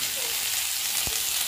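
Onion, carrot, chopped chili and peas fry in hot oil in a pan, a short, loud and steady sizzling hiss with one faint knock partway through.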